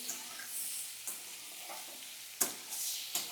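Ground spice mix frying in a pan with oil, a steady soft sizzle broken by a few sharp scrapes of a spoon stirring it, close and alone with no talk.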